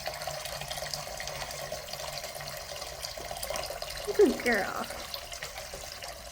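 Water runs steadily from a tap at moderate volume, and a person says a few words near the end.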